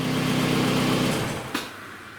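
A car engine idles close by with a steady low hum, then winds down as it is switched off partway through, leaving a fainter tail after a brief click.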